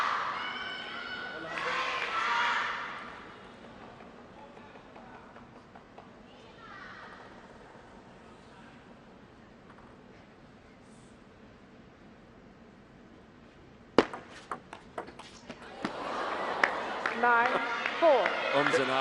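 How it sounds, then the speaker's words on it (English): Murmuring ums and ahs from a table tennis crowd in an arena at a world cup match, a swell of voices early on fading to a low hum, then a louder surge of crowd noise near the end. "Ums and ahs from the crowd."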